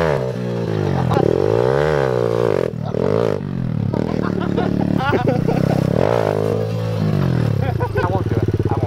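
A pit bike motorcycle engine runs loud and close, revving up and down with rising and falling pitch and rattling clatter throughout, while people talk over it.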